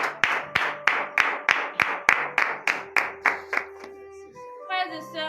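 A congregation at a morning prayer service in Benin claps in unison, a steady run of about a dozen loud, evenly spaced claps that stops abruptly, followed by a short sustained sung or voiced tone.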